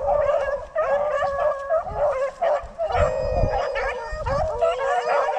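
Rabbit-hunting dogs bay and howl in close, loud overlapping bursts, several voices yelping and baying together almost without pause.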